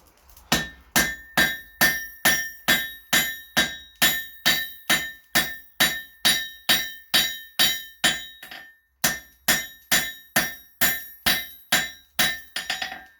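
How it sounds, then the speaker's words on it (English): Hammer blows ring out on steel held at the anvil's edge while forging tongs, a steady run of loud, evenly spaced metallic strikes with one short pause before the rhythm resumes. "I'm hanging it just over the edge of the anvil, and we'll forge it down."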